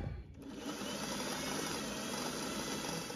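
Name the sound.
sewing machine stitching a dress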